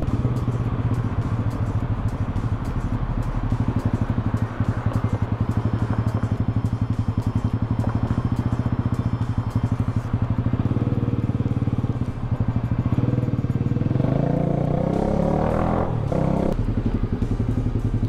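A motorcycle engine idles and rides along a street with a steady, loud, close low rumble, rising into a brief rev and clatter near the end, with no talk.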